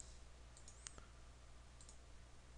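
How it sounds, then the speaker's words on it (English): A few sharp computer mouse clicks spaced apart over a quiet background hum while opening Google Calendar. "So three clicks, you could open Google Calendar."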